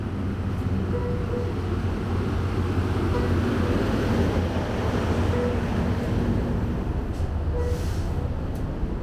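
A San Joaquins passenger train rolls along at speed, a steady rumbling clatter of wheels on rails heard from inside the carriage, continuous and even throughout.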